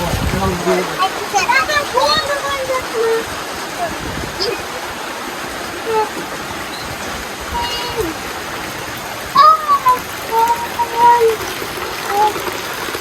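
A torrent of rushing rainwater flows in steady, loud noise under hot sun, with voices talking over it throughout.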